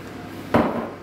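A utensil knocks and scrapes inside a cooking pot as tripe and onion are stirred, one sharp close clack followed by a short rustling scrape.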